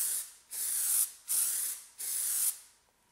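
PlastiDip sprays from an aerosol can in a light first coat on a car, four short hissing bursts of about half a second each, evenly spaced with brief pauses, close and crisp.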